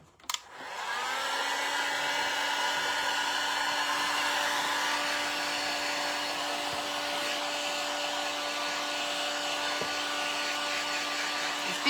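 A handheld heat drying tool blows steadily on a painted tin can craft, switching on with a rising whine and then holding a loud, constant airy roar with a steady tone for the rest of the stretch.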